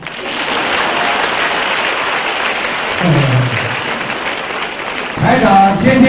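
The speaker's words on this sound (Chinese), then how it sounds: "鼓掌。" Applause from an audience at a Buddhist dharma question-and-answer gathering in Singapore: a steady wash of clapping for about three seconds. A voice then speaks over it, and the clapping swells again briefly near the end.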